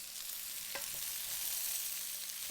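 Curry paste sizzles steadily in a pan while red lentil dhal is being cooked, a close, continuous hissing fry with a brief stirring clack partway through.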